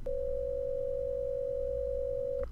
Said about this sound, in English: this is what two sine tones sound like.